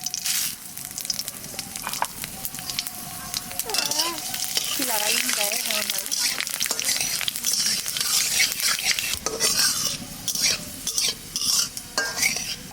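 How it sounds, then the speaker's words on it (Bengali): Dried red chillies, bay leaf and panch phoron sizzle and crackle loudly in hot oil for a Bengali ghat, with a spoon stirring and scraping steadily throughout, and a few brief spoken murmurs over the frying. "দিয়ে দেবো শুকনো লঙ্কা তেজপাতা পাঁচফোড়ন"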